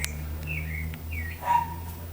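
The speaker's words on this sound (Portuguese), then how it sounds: "Ó, já estão piando já." Chicks peep in short, high, thin calls, several separate chirps close by over a low steady hum.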